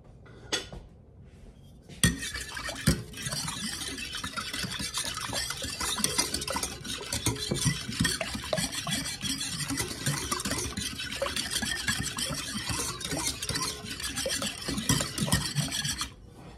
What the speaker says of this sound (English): And I'm going to stir it until the sugar is dissolved.